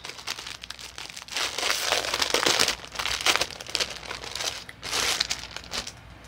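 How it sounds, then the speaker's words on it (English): A crinkly plastic packaging bag is handled up close, giving off bursts of crackling and rustling of uneven loudness, with no one speaking. "More crinkles."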